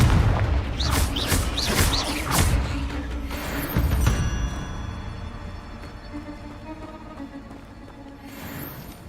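Confringo blasting spells in Hogwarts Legacy burst in a rapid run of sharp, punchy booms up front, then settle into a fading rumble with a thinner ringing tail.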